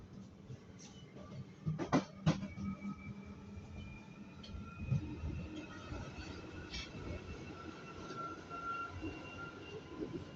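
Steady rumble and clatter of a London Underground Jubilee line tube train in motion, with occasional metallic squeals and rattles over a continuous low roar.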